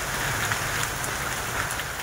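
Heavy night rain pours steadily without a break, a dense, even hiss of drops beating on surfaces, close and loud with no pauses and no voices.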